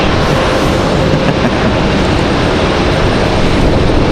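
A Delta airliner taxiing at Raleigh-Durham airport gives off a loud, continuous jet-engine rumble and hiss, close and unbroken with no change in level across the few seconds.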